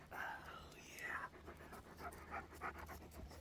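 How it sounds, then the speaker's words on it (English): Puppies pant in quick, breathy bursts close by outdoors, mixed with soft whimpers, while a person talks quietly over them. "I got puppies."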